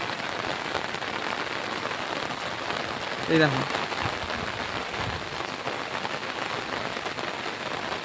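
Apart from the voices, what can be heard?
continuous rain falling on a rooftop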